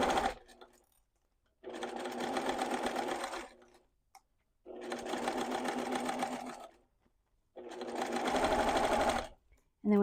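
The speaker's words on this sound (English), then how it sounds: "And then you'll just sew across this flat edge." Sewing machine stitching across the flat edge of a fabric love letter pouch: three steady, even whirring runs of about two seconds each, separated by short pauses, fairly quiet and close.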